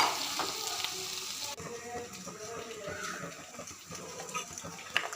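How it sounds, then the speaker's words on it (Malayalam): Shallots sautéing in oil in a pan for a fish curry, a steady close hiss and sizzle with faint stirring scrapes running throughout and no one speaking. "കൊച്ചുള്ളി നന്നായിട്ട് വഴറ്റിയിട്ട് എണ്ണ ഒഴിച്ചിട്ട്"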